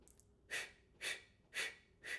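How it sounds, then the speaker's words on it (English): Four short, sharp breath bursts arrive in an even staccato rhythm about half a second apart, close and clear, as part of a live-streamed vocal warm-up. "So we'll breathe in for 4 and then out for 4 on staccato beats."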